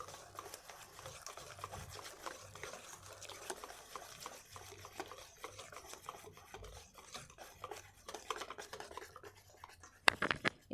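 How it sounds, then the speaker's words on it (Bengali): Marie biscuit cake batter thinned with milk being beaten by hand in a steel bowl, a continuous soft rhythmic scraping and stirring, with a few sharper clinks at the very end. "এভাবে ফেটিয়ে নেব ভালো করে"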